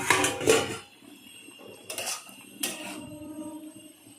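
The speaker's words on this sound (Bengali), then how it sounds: "আমি এবার ঢাকনাটা খুলে দেখব আলুটা সিদ্ধ হয়েছে কিনা" A metal lid lifted off a cooking pot of boiling potatoes in a home kitchen, giving a few close, bright clanks and clinks in quick succession, then quieter scrapes, with no voices.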